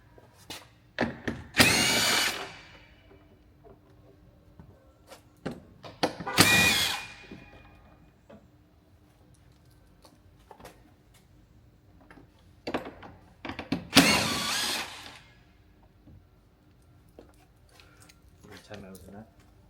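A power drill spins off 10mm nuts inside a Tesla Model X door during window regulator replacement, in four whirring bursts of a second or two each, close and loud, with quieter handling sounds between.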